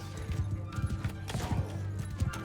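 Horse hooves clip-clop in a rapid, steady rhythm during mounted combat in the video game Mount & Blade II: Bannerlord, heard over a busy background of battle noise.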